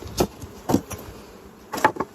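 Honey bees buzzing around frames during queen rearing, with several short bursts of close buzzing as bees fly past, separated by quieter stretches.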